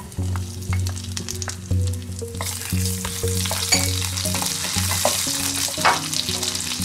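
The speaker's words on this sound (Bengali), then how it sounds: "ড্রাই ফ্রুট গুলো ভেজে নিচ্ছি।" Dry fruits fry in ghee in a hot pan, giving a loud, close, crackling sizzle with stirring scrapes and bursts of spatter throughout, and no talk.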